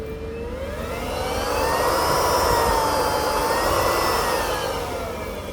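A waste oil burner runs close by, switched to 12-volt battery power during a power cut. It gives a loud, steady blower roar with a whining tone that swells and then eases slightly, with no talking.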